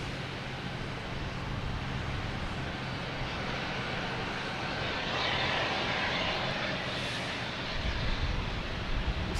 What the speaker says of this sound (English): This is the next takeoffs at JetBlue and A220 heading to Miami.